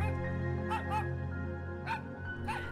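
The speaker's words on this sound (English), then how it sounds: "You can even hear the happy barking dogs." Dogs barking at a dog park, several short yips and barks in small clusters, moderately close over a steady tonal background hum.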